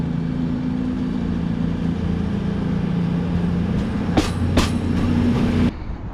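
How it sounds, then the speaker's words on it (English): Interior of a train riding toward Halesowen: a steady low rumble with clattering wheels, a couple of brief sharp squeals near the end, then the noise drops off suddenly. No one talks. "I'm going on the train now to Halesowen to pick it up."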